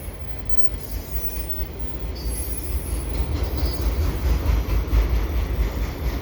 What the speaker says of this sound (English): Probably the first train that I've caught here at Dorval in 2022 in the winter